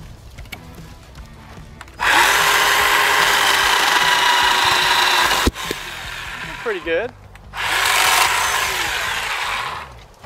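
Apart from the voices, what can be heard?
Bauer 20v cordless chainsaw cutting tree limbs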